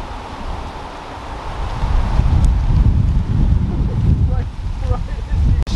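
Wind gusting across an open disc golf course, a rough low rumble buffeting the microphone that builds and stays loud, with people talking over it.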